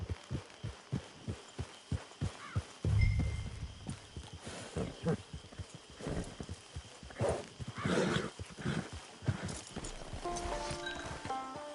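A horse in the video game Red Dead Redemption 2 trots with rhythmic clip-clopping hooves, then lets out a whinny, with game dialogue voices and music layered over the hoofbeats.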